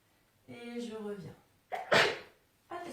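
A single sharp sneeze bursts out between short vocal sounds, close and fairly quiet, preceded by a voiced intake.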